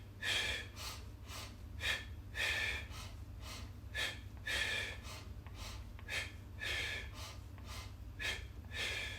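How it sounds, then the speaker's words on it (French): Rhythmic breathing during Pilates jumps on a Swiss ball, with sharp inhales and exhales paired in a regular cadence. It repeats about a dozen times, close and fairly quiet over a low background hum. "on va cadencer notre respiration avec 2 inspirations, 2 expirations"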